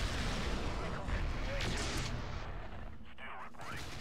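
Heavy autocannon fire and explosions from the MechCommander 2 video game, with dense rumbling blasts that trail off into quieter bursts near the end.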